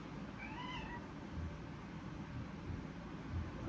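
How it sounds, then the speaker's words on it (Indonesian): A pet cat gives one short, plaintive meow near the start, fairly faint, over a steady hiss of room noise with a few soft bumps afterward. "kucing gue udah meong-meong"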